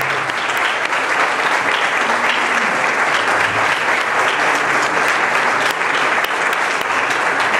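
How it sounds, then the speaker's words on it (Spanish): A concert audience at a tribute to masters of Colombian music bursts into sustained, loud applause, a thick continuous roar of clapping from a large crowd that stays at full strength for the whole stretch. "un fuerte aplauso para ellos"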